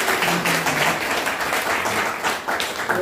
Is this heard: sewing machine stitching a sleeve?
no